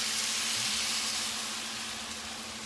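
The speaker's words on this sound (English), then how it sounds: "Now I'm going to add my beer." Beer pours into a pan of chicken and rice sautéing on the stove, giving a steady, close sizzle and frying hiss that holds level throughout with no talking.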